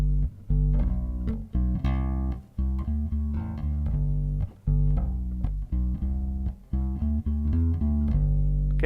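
Electric bass played an octave above the fretted notes, giving a hollow, flute-like harmonic tone; a run of sustained notes rings out alone at moderate volume with brief gaps between phrases.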